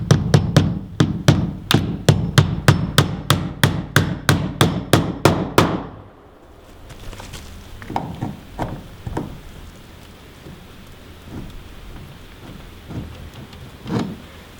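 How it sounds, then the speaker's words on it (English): Nails being hammered into a door frame: about fourteen sharp, evenly spaced hammer blows in a steady rhythm, then a quieter stretch of soft rustling with a few scattered taps. "So let's start nailing it in."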